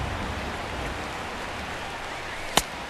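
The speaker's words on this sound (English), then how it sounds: "And this rain is intensifying now. This is as hard as it's come down all night." Steady rain hisses throughout a baseball game in MLB 16, a dense, even wash of falling water with one brief sharp tick near the end.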